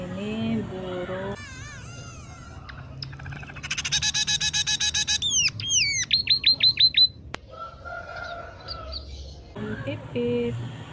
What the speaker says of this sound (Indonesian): Ini burung.